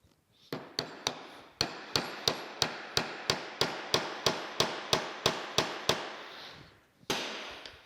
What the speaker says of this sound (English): I'm going to go get a little hammer and we'll tap that in place.